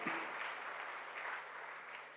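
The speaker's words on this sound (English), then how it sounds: "I request each one of you to give a big round of applause for him." An audience at a college inauguration ceremony for first-year BBA, B.Com and B.Sc classes claps for the guest of honor, a steady, fairly soft round of applause lasting the whole stretch.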